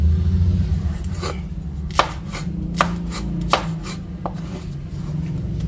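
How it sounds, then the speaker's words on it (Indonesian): Spring onions are chopped quickly with a knife on a board, a run of about seven sharp, close knocks in an uneven rhythm over a low background hum, with no talking. "sekarang saya akan potong-potong ini daun bawang"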